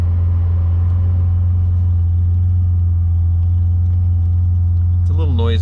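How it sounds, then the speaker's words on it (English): Interior fan of a 1974 Porsche 911 blowing steadily, a loud constant low hum and rush filling the cabin, with a brief voice-like chirp near the end. "It's a little noisy, but the fan was working."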